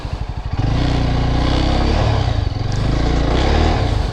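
A Yezdi Adventure motorcycle's engine revs hard and steadily as its tyre spins in mud on a jungle off-road trail, loud and close, after a brief rougher burst at the start, with no talking.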